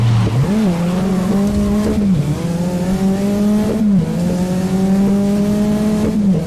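A racing car in a video game drives hard, its engine droning loud and steady with repeated pitch climbs as it shifts, plus a tire skid, no one talking.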